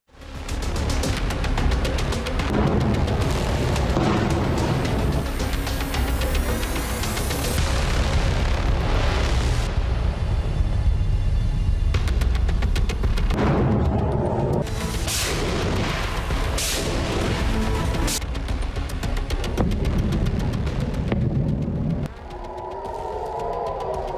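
Booms and blasts from Hezbollah rocket and missile attacks on Israeli cities roll on almost continuously, loud and dense, with repeated heavy impacts and rumbling.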